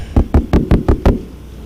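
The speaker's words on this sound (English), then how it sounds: "My mother knocks on the door." Six sharp knocks on a door, loud and close, evenly spaced in a quick run, then silence.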